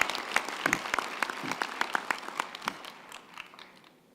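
Scattered applause at a university graduation ceremony, individual claps standing out sharply from a thinner crowd, fading toward the end.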